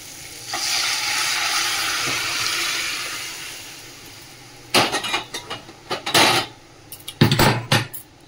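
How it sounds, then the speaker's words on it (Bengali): Dal is poured into a hot tempering in a pot: a brief sizzle and bubbling, then several loud clanks of a metal pot and utensils in quick irregular bursts. "সবটা হয়ে গেছে, এবারে ডালটা একটু ঢেলে দেবো।"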